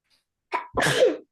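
A child sneezes once, sharp and close, during a kindergarten lesson: a short intake of breath, then the explosive burst, with silence on either side.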